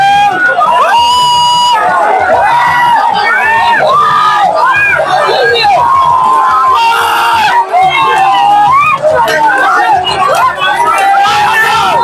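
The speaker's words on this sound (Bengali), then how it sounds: "দর্শকের চিৎকার শুনতে পাচ্ছেন আপনারা" Spectators at a country boat race on the Lunga river shout and scream in a dense, continuous roar, excited cries rising above the crowd's babble throughout.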